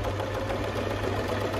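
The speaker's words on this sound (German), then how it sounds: "die Nähmaschine näht jetzt rückwärts." A Singer Serenade sewing machine stitches in reverse while making a buttonhole. It gives a steady, loud mechanical hum with a fast even stitch rhythm and no speech.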